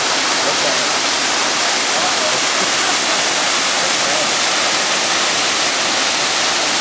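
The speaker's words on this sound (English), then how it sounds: "This is Becky Branch Falls. Beautiful falls with a lot of water today." Becky Branch Falls, swollen with lots of water after rain, roars as a dense, constant, loud rush of falling water with no other sounds.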